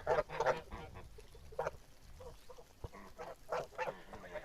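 Moulted geese and ganders honk in scattered bursts at close range, with quieter gaps and a faint background between the calls.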